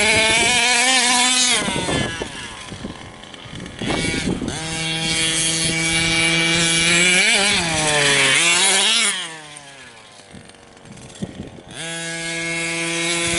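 Losi Five B RC car with a 32cc OBR Signature Series drag mod reed case engine at half throttle during break-in, a loud buzzing two-stroke whine that rises and falls in pitch, dipping briefly before revving again.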